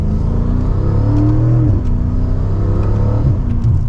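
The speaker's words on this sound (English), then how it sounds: "You can just hear those turbos spooling, and the shifts are very quick" A BMW M5 Competition (F90) twin-turbo engine accelerates hard from second gear with a steady rising whir and rumble, loud and close, with quick pitch drops between gear shifts.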